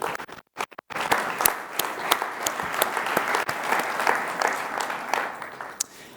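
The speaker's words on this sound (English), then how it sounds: "A round of applause once again to everybody." An audience at an awards session breaks into applause, dense sustained clapping after a brief pause, fairly close and steady throughout.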